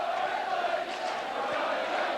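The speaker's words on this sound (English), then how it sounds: "The Leeds crowd singing we're going to win the league" Leeds rugby league crowd at a home match against St Helens, a dense, continuous roar of massed voices singing and chanting, steady and loud throughout without a break.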